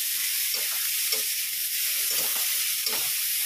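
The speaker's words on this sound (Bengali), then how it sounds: "ফোড়ন দিয়েছি পাঁচ ফোড়ন আর শুকনো লঙ্কা ফোড়ন দিয়েছি। একটু ভাজা ভাজা করে নেবো" Panch phoron and dried red chillies fry in hot oil with a steady, loud, close sizzle and faint stirring clicks throughout, no voices.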